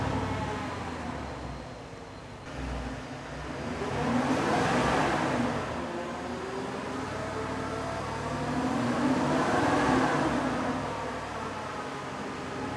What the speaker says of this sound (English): Let's hear what the stock exhaust sounds like now so you can compare it when we're done.